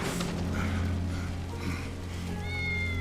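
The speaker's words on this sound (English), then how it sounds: "That's Wedge's cat." A cat meows a few times in the Final Fantasy 7 Remake video game, short mid-pitched calls over a steady low game-music hum, with a brighter tone entering near the end.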